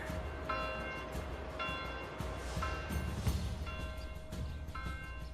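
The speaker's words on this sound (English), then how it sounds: "You can hear the church bells as they're alerting the town." Church bells in a video game ring repeatedly in a steady pattern, alerting a town, over a dense, rumbling background din, the tolls fairly loud and evenly spaced.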